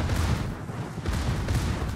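Naval guns firing in World of Warships during a clan battle, a dense rumbling barrage of distant booms with no clear separate shots, steady and moderately loud throughout.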